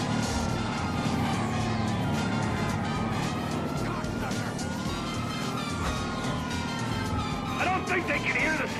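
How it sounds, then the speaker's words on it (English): Police car sirens wail in the video game GTA 5, rising and falling tones sounding steadily over engine noise during a pursuit while someone talks over them. "I don't think they can hear the sirens."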